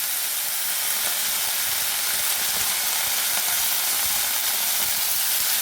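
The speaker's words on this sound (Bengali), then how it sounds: "এবার এই দিকে কড়াইতে আমি এই যে সম বাকি সমস্ত সবজিগুলো দিয়ে দিচ্ছি" Steady, loud sizzling and hissing of vegetables added to a hot wok with ghee for a winter khichuri, a continuous dense fry with no pauses or talk.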